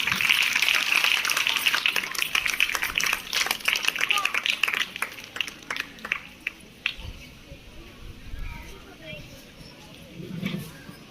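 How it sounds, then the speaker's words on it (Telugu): An audience at a school parent-teacher meeting in a village claps loudly and densely, and the sound then thins into scattered claps before dying away into room noise with faint voices. "అందరూ ఒకసారి క్లాప్స్ కొట్టు."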